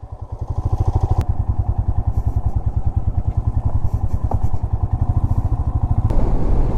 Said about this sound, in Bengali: এই কালা ড্যামের উপরে বাইক চালাচ্ছি